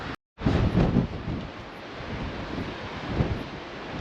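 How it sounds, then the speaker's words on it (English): Strong wind roars steadily into the microphone on an exposed Western Australian coastline with no shelter, a loud continuous buffeting rush with brief gusts and a short dropout near the start. "There's just no protection at all from the wind."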